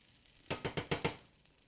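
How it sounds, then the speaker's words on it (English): Vegetables added back into a sizzling chicken and quinoa stir-fry pan: five quick, evenly spaced tossing knocks over a soft, faint sizzle. "now to this we're going to add our vegetables back in"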